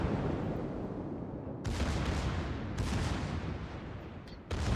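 Naval gunfire from the French battleship Bourgogne in World of Warships, heavy booming salvos that hit abruptly and roll into a dense, sustained rumble, loud and close with no voices.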